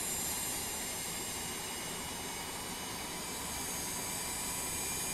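Cessna Citation X auxiliary power unit spooling up in X-Plane 12, heard from outside near the tail cone at sunset: a steady, loud turbine roar with bright hiss, continuous throughout with no talking.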